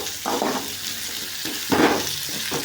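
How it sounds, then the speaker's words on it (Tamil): Cumin and ginger sauté in a hot pan for chutney, giving a steady oily sizzle with a few louder crackling bursts as they are stirred. "நல்லா வதக்கணும்."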